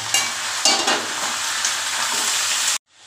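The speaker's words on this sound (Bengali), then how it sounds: "এটা ভাজা ভাজা করে করবো।" A spiced dish fries in a pan, giving a loud, steady sizzle with a few stirring scrapes, close up, until it cuts off abruptly near the end, and no talking.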